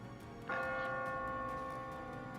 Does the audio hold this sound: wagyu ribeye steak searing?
no